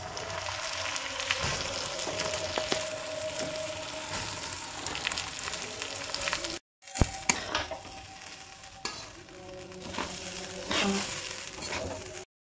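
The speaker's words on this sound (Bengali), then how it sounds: "এবার এগুলোকে একসাথে ভালো করে ভেজে নিতে হবে।" Soaked rice fries in ghee with bay leaf and whole garam masala in a kadai for basanti pulao. A close, crackling sizzle runs under repeated stirring and scraping, broken by one brief silent gap.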